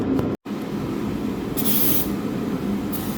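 Brake parts cleaner sprays onto an engine surface during an oil leak repair on a 2005 Chevy Equinox. Brief hissing bursts from the can stand out against a steady background hum in the workshop.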